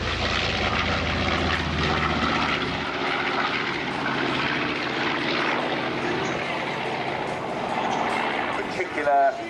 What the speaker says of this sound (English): Particular and a glorious sound from those radial engines